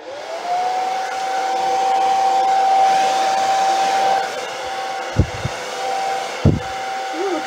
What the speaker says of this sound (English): I'm going to blow the negative space color over this and then blow it out.